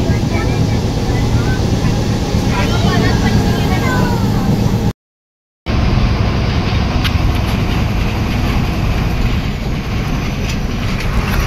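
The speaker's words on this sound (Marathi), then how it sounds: "तांडू ट्रेन फास्ट ट्रेन." A loud, continuous rushing roar of a fast-moving train passing near Tandulwadi Fort in the Sahyadris, briefly cutting out before resuming, with clattering and voices mixed in.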